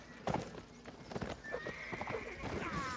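Horse hooves clip-clop and a horse whinnies in the Napoleonic Wars video game, amid dense battle noise, with a few rhythmic hoofbeats under a busy mix and faint background voices.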